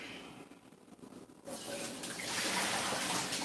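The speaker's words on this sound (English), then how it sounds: "I gave them kind of a rinse." Running water from a kitchen tap rinses food in a strainer, quiet at first and then swelling into a steady splashing flow.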